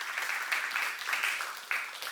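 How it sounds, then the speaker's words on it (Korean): Church congregation applauding during a seminar sermon, brief and fairly quiet clapping in uneven surges, with no talk over it. "박수로 하나 되세요."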